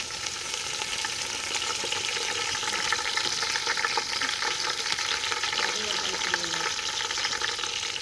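Mint and coriander leaves fry in a pan for biryani, an even close bubbling sizzle with light stirring scrapes throughout.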